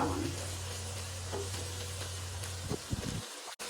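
Pumpkin curry stirred in a hot pan, a steady close sizzle with a low hum, a few scraping stirs near the end before it cuts off.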